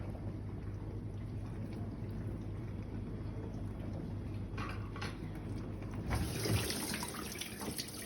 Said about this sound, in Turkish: Şu an su alıyor.